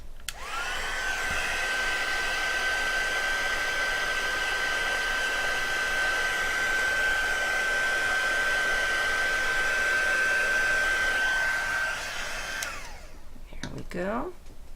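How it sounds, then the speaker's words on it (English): Heat gun blowing hot air to dry stamped ink in mixed media crafting, a loud steady whooshing roar with a thin whine that runs about twelve seconds before switching off. "I'm going to use the heat gun just to set these really quickly."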